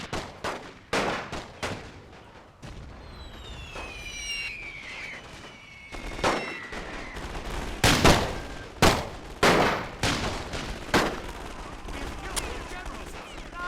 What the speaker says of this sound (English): Still firing off shots as quickly as they can.